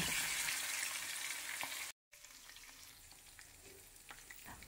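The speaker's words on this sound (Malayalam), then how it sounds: "കാട ഉണ്ടായിരുന്നു മുളക് വരട്ടി വെച്ചിട്ട് അത് ഫ്രൈ ചെയ്യാൻ വേണ്ടിയിട്ട് ഇട്ട് കൊടുക്കുകയാണ്" Hot oil sizzles and crackles steadily as chili-coated quail fries close by, briefly cutting out once before the frying continues.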